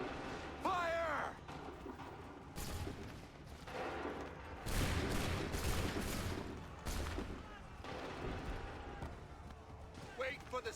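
A volley of musket gunfire in Assassin's Creed III, several close, loud cracking bursts clustered in the middle amid battlefield noise, with shouted voices around them.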